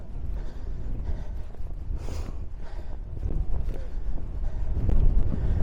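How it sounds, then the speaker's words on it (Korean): Strong wind gusts roar across a mountain summit, buffeting the microphone in a continuous low rumble that swells louder toward the end. "바람이 아주 세차게 분다"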